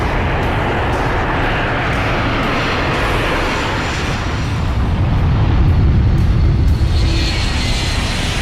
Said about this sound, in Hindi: विमान अपनी तेजी से रफ्तार पकड़ता है और दोपहर 1:38 पर विमान आसमान की ओर उड़ान भरता है।